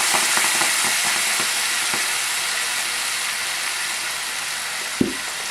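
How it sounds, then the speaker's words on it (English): White wine, a dry vermouth, goes into a hot pan of tomatoes, raising a loud, steady, close sizzle with faint stirring scrapes and a single knock near the end. "Let me add in a 1/4 cup white wine,"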